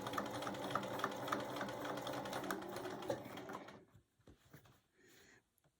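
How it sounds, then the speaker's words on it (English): A sewing machine stitches quilt binding in a quick steady whir for several seconds, then stops, leaving a few soft clicks and handling sounds. "And you're sewing on quite a bit right there."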